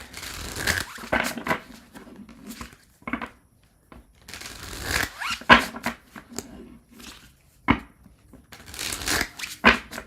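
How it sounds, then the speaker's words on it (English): Repeated bursts of tarot cards being shuffled, crisp riffling sounds coming in quick rounds separated by short pauses, close and clear. "final shuffle"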